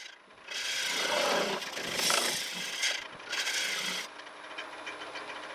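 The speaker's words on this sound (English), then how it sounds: "you can do a push and pull cut, and this was actually proving really good. It was hogging out material very quickly" A lathe gouge cuts into wet walnut, giving rough, rasping bursts of shaving noise that rise and fall in several pushes, close and fairly loud over a faint motor hum, with no voices.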